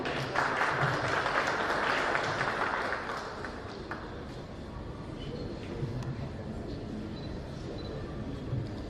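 Sustained applause from an audience at an award ceremony for a photo marathon, loud and dense at first, then easing into a thinner, steadier clapping that continues to the end.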